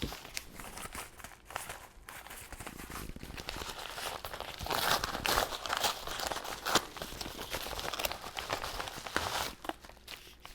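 Paper mail envelope being opened and handled, with steady crinkling, tearing and rustling of paper close by, busier in the middle, and no talking.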